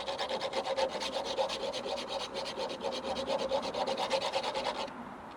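A metal file rasps back and forth through rusty tie rod threads in quick, even strokes, close and steady, stopping just before the end.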